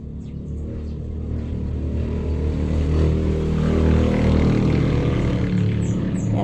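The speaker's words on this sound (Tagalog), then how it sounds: "Yan po ang ingay ng mga motorsiklo na dumadaan guys" Motorcycles pass by behind a small shop, a broad engine drone swelling over several seconds to a loud, near peak before easing slightly, with faint bird chirps high above.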